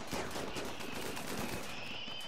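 Gunfire in the RimWorld video game comes as a dense, steady fusillade of overlapping shots. It is fairly faint and fills the whole stretch without pauses.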